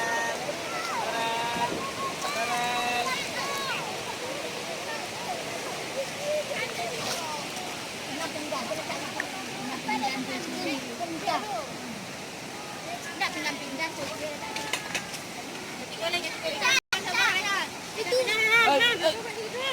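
Steady rushing of the Krueng Baru river in Aceh, Indonesia, with people talking over it and scattered clatter.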